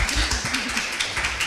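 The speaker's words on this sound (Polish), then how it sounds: "Przekażę Agnieszce brawa." Brief applause from an audience at a conference on dance, a short burst of distinct claps, moderately loud and alone.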